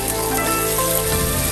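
Scallions, garlic and ginger fry in hot oil in a wok, giving a loud, steady sizzle that crackles continuously throughout without pause.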